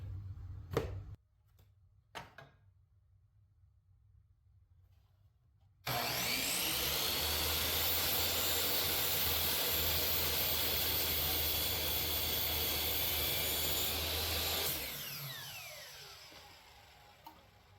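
After a few quiet clicks and taps, a power tool roars to life and cuts steadily through scrap-metal balls for a medieval flail for about nine seconds, then winds down.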